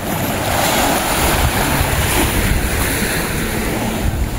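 Open sea heard from aboard a small boat: waves rush and wash continuously around the hull, mixed with heavy wind buffeting, loud and close with no voices.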